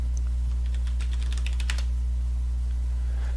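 Quick bursts of keystrokes on a computer keyboard as a new folder name is typed, a rapid run of clicks over a steady low electrical hum, with no talking.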